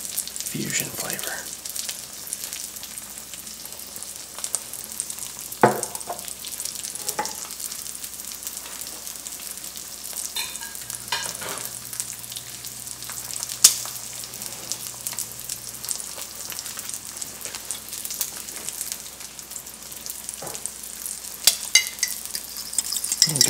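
Eggs stirred and frying in a pan for a Southern-style breakfast burrito, with a steady soft sizzle running throughout and occasional scrapes and clinks of the utensil against the pan, close and quiet, with no talking.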